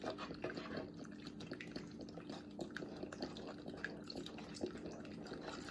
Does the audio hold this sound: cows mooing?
no